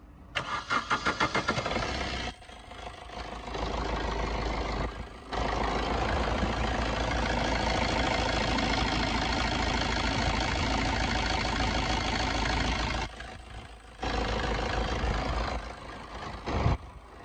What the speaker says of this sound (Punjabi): ਬਾਕੀ ਤੁਸੀਂ ਜਿਹੜਾ ਇੰਜਨ ਸਾਊਂਡ ਸੁਣ ਚੁੱਕੇ ਹੋ ਬਿਲਕੁਲ ਨੋਰਮਲੀ ਹੈ